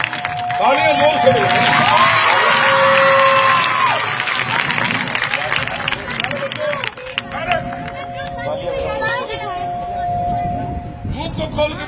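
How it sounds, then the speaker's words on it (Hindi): School children at a magic show clap and cheer in a loud, dense burst of applause that gradually thins into scattered clapping and chatter, with a voice speaking over it. "हेलो तालियां जोर से"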